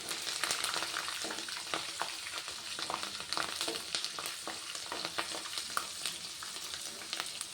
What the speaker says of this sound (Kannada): ಈಗ ನಾನು ಹಸಿರು ಮೆಣಸಿನ್ಕಾಯಿ ಹಾಕ್ಕೊಂಡು ಫ್ರೈ ಮಾಡ್ಕೊತೀನಿ.